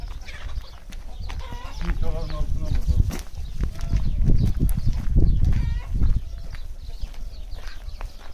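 Chickens cluck on a Turkish village farm, mingled with other farm animals, a steady close barnyard clamor with someone talking throughout.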